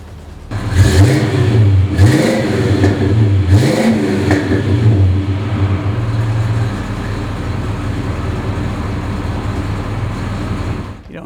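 A restored 1970 Pontiac GTO convertible with a manual transmission fires up and catches, then its engine is blipped through several loud, sharp revs before settling into a steady, rumbling idle close by.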